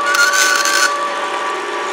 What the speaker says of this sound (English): This tapping head goes faster in reverse on the exit than it does on the inlet.